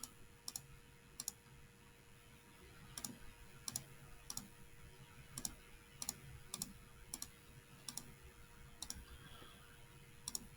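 Calculator keys are pressed one after another to enter a matrix, each button giving a crisp, quiet click in an irregular sequence over faint background hiss.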